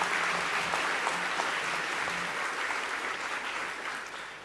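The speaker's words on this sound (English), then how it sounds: "I think he deserves a second round of applause there" Steady round of applause from a school assembly audience at a scholars' ceremony, congratulating a student; even, moderately distant clapping that holds for a few seconds and gently tapers.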